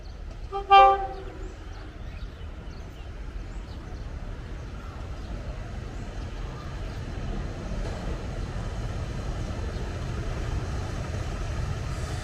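Diesel express train No. 75 from Bangkok to Nong Khai arriving at Ayutthaya station, opening with a short horn toot followed by a steady low rumble of the train rolling in.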